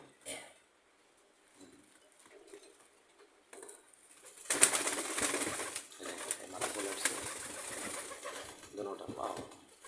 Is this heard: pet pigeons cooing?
yes